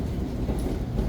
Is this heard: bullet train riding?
yes